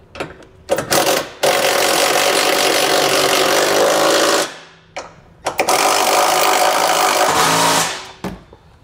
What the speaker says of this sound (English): we can go ahead and tighten everything down using an 18 and a 15 millimeter socket.